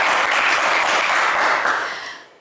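A game show studio audience claps loudly for a contestant, a dense, even burst of applause that holds steady and then fades out near the end.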